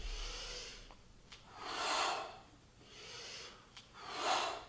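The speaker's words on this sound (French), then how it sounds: "J'inspire pour descendre." Someone breathes audibly while doing air squats in a cross-training class, with close, quiet inhales and exhales repeating in a slow, even rhythm.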